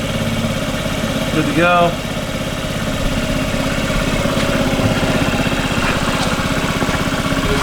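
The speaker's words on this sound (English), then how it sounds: "you have to hold the brake and you push this metal button. Fires right up." A 2014 Honda Ruckus scooter engine fires up with a brief starter burst, then settles into a steady, close, puttering idle that runs on evenly, with a short spoken remark early on.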